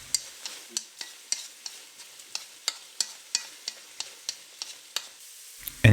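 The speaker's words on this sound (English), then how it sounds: "we'll add the green portion of the green onions into the mix and continue to stir fry the contents" Tomato and egg are stir-fried with green onions in a Chinese home kitchen: a spatula scrapes and taps the pan in an even, regular rhythm over a faint sizzle, ending in a louder clatter.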